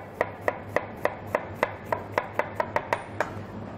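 A knife finely chops an onion on a board, giving about a dozen crisp, evenly spaced taps in a quick steady rhythm, close and fairly quiet.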